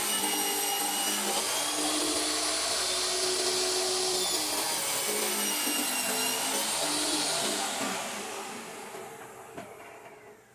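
A circular saw disc cutting a groove into wood for a drawer, a loud steady whining grind held for about eight seconds before it winds down and fades.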